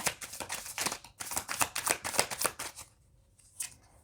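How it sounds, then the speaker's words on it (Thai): Tarot cards shuffled thoroughly by hand, a fast run of crisp riffling bursts that pause briefly around one second, then fade after about three seconds into near silence with one last soft shuffle. "ราขอสับไพ่แบบละเอียดละเอียดก่อนนะคะ"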